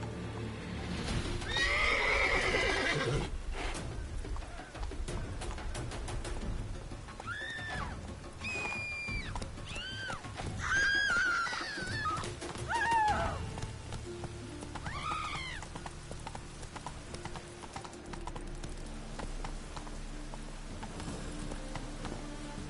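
Roach, a horse in The Witcher 3 game, gives several loud whinnies and neighs over the clip-clop of hooves, set against a low rumbling background that continues after the calls fade.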